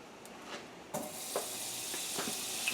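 Butter melts and sizzles in a pan with lamb chops, a steady soft hiss with a few light crackles and pops, fairly quiet and without talk.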